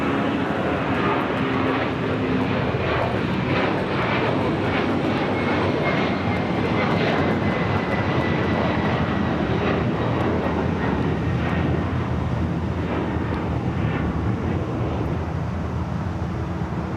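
A Delta Boeing 767-400ER jet at LAX roars loudly and steadily for the whole stretch, a broad engine rumble that swells slightly as the aircraft passes close by.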